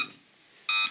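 Short electronic beeping from an idle 4DRC M1 Pro mini drone, a faint tone then a loud, bright burst near the end, alone without talk.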